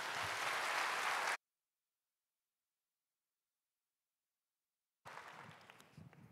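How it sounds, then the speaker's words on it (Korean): A church congregation at a Korean young adults' worship service applauds to welcome the pastor to the stage. A dense burst of clapping cuts off abruptly into silence, then a softer patch of applause returns. "목사님 나오실 때 박수로 맞이하도록 하겠습니다"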